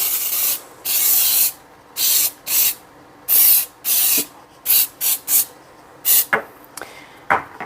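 Short repeated bursts of aerosol spray coating a cake pan at a kitchen sink, about a dozen hissing blasts of varying length separated by brief pauses, close and fairly loud with no talking.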